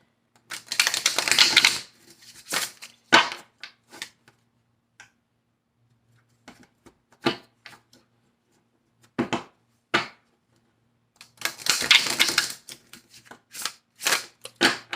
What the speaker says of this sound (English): it took me so much to bend these cards to get them to shuffle the way I like to shuffle